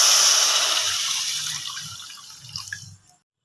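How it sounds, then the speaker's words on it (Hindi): One kilogram of milk pours into a pan of vermicelli for a sweet shahi sawaiyan dish, a close, steady liquid gush that tapers off with a few splashes over about three seconds. "तो अब मैं इसमें अपना जो है वो 1 किलो दूध हम इसमें डाल रहे हैं।"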